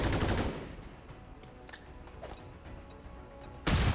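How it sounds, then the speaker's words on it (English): A flashbang goes off in the XCOM 2 video game. A sharp, loud burst opens the moment, quieter game ambience and faint ticks follow, and another loud bang arrives near the end. "We're gonna do a flashbang onto you."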